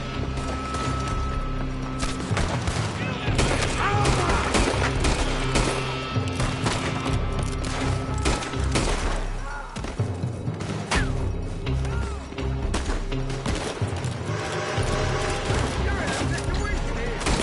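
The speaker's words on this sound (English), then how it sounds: "They're shooting from that building." Gunfire from a building in the Red Dead Redemption 2 game, a dense, loud fusillade of rifle and pistol shots cracking nonstop with booming impacts, over shouting voices.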